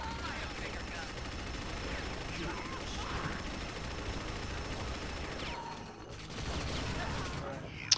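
A minigun firing in a video game, a continuous rattling stream of rapid shots at moderate loudness with a brief break near the end, while a voice talks over it.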